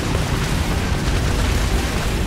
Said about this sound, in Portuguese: Travou, a gente mete tiro.